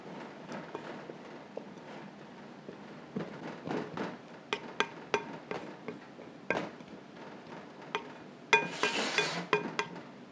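A pastry blender cuts butter in a bowl for strawberry ricotta scones, giving quiet, irregular metallic taps and scrapes with several sharper knocks against the bowl. The sounds are close and spaced unevenly, with no talk.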